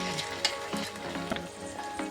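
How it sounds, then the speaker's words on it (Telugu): Tomato puree hitting hot spices such as bay leaf and cinnamon in a pan for mushroom curry, a loud close sizzle with repeated scraping stirs and soft clatter throughout. "ఇలా వేగిన తర్వాత ఇందులో టమోటో ప్యూరీని యాడ్ చేసుకోండి."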